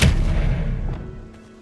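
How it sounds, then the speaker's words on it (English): An Expelliarmus spell cast in the video game Hogwarts Legacy bursts out as a single heavy, booming blast that rumbles and then fades away over a second or so, with no voices. "Expelliarmus."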